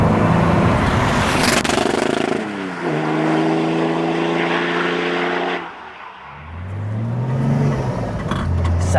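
A BMW E46 Compact with a swapped M57 diesel engine accelerates hard, its throaty note climbing through a gear, dipping at a shift, then rising again, loud and close throughout.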